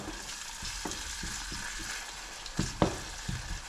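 Steady hissing sizzle of bacon frying in a pan, with occasional clinks and scrapes of stirring, fairly quiet and without voices.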